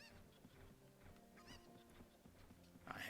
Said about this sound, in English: I have no clue where this last damn chicken is.